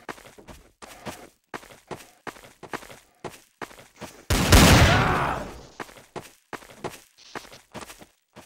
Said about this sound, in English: Did you just fire two shots?